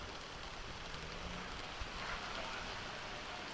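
Heavy rain pours down steadily, a dense, continuous hiss filling the scene close around, with faint background noise and no clear talk over it.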